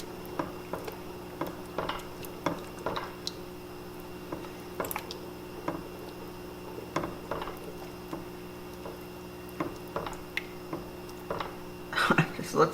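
Homemade meat spaghetti sauce with garlic stirred for canning, soft wet squishing and light ticking spoon strokes against the pot at a steady, irregular pace, close but quiet, with a low steady hum underneath.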